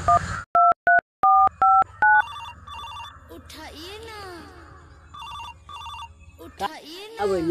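A burst of touch-tone dialing beeps, then a repeating phone ring tone in short pulses, with rising electronic chirps and some background chatter.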